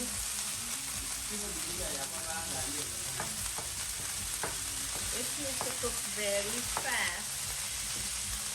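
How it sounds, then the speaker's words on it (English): Ground beef fries fast on high heat in a pan with olive oil, a constant close hiss and sizzle broken by scraping stirs and clinks of a utensil, with faint talk now and then. "add your ground beef. This needs to cook very fast."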